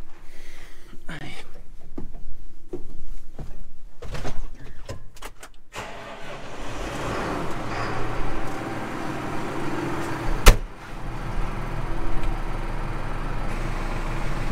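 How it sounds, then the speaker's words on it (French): A tractor's power take-off drives an Erme garlic harvester whose hydraulic circuit runs off its own pump. A few knocks and clunks come first, then a steady mechanical drone with one sharp bang partway through, while someone talks over it. "Donc ça y est, la prise de force est en route."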